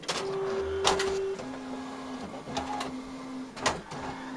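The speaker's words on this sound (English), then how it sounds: "Let's go ahead and send this over to the printer." An Epson Stylus Pro 4800 wide-format printer runs a print job, its carriage whirring in steady tones that repeat roughly every second, punctuated by sharp mechanical clicks and clunks, close up with no voices.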